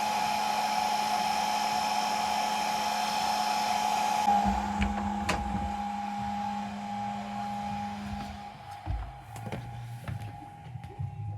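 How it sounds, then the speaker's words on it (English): A handheld hairdryer blows steadily for over four seconds to speed glue curing on a Pokémon and WWII diorama. It then cuts off and leaves scattered handling knocks and clatter. "I have a hairdryer."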